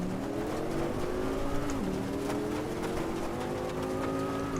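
Car engine in the Assetto Corsa EVO racing game revs and drops, its droning pitch sweeping up and down steadily with a few sharp ticks, and no speech over it.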